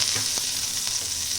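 Chana dal dry-roasting in a pan for dosa chutney, a steady close hiss with faint stirring scrapes, even and continuous, without talk.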